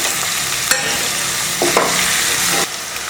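Onion and dried red chilli sautéing in a pan for pepper masala chicken, a loud continuous sizzle with bursts of stirring scrapes, close and without speech.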